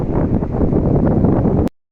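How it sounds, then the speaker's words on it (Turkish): Strong wind in a village buffets the microphone in a loud, continuous low rumble that surges slightly, then stops abruptly. "Çok rüzgar var köyde."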